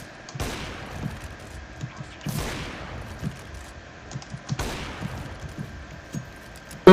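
Three sharp, loud gunshots from an AWP sniper rifle in the game CS:GO ring out a couple of seconds apart, each with a brief tail, over faint background clatter.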